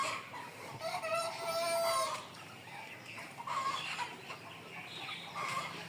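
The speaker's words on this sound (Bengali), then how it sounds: "এই যে মামার ছেলের মুরগির খামার, ভাইয়ের চন্দনের" Chickens at a village poultry farm cluck and call continuously, with one drawn-out crowing cry near the start, heard from a short distance over faint outdoor ambience.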